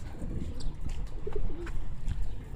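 A captured Pilka pigeon gives a few soft, low coos, held close and distinct over a steady background murmur.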